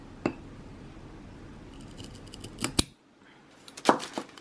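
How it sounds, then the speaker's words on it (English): Scissors snip wooden candle wicks in three crisp, close cuts spaced apart, each a sharp metallic clip against a quiet room. "I really want to trim the wicks with you guys"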